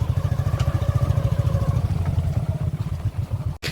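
A motorcycle engine runs steadily on a muddy, waterlogged rural road in flood-hit Assam, its low rumble and clatter loud and close throughout, easing slightly near the end.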